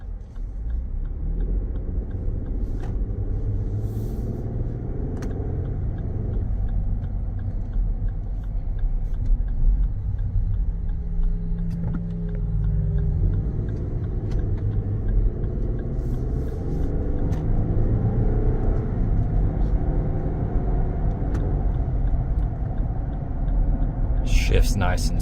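2024 Lexus GX 550 Premium Plus on a test drive, a steady low engine and road rumble heard from inside the cabin, with a person talking over it throughout.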